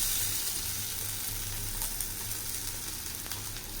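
Banana flower fritters frying in hot oil in a pan, a steady close crackling sizzle with occasional pops and a low hum underneath, no voices.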